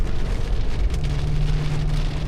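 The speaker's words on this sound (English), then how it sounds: "It's raining like crazy right now on my drive over." Heavy rain drums on a moving car, a dense, loud, steady patter over low road rumble with no talking.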